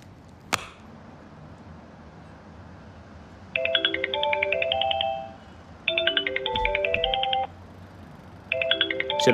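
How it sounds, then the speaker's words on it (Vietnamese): A mobile phone ringtone plays a bright electronic melody in three loud, repeated bursts separated by short pauses, after a single sharp tap at the very start. "Xin lỗi, tôi nghe điện thoại một chút."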